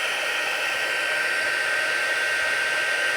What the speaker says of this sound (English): I'm going to use my heat tool to heat emboss this